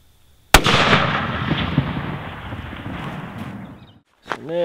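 A single sharp rifle shot from a long range hunting rifle cracks loud and close, followed by a long rolling echo that decays over several seconds before a voice begins at the end.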